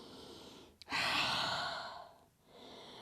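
A yoga instructor's long, steady breath out, close and soft, rushing for more than a second before fading, with no talk over it.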